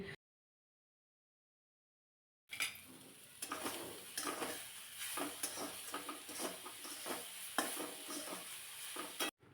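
Fresh coriander sautéed in a pan, with soft sizzling and repeated scraping and clinking of a spatula against the metal, close up. It starts after a few seconds of silence.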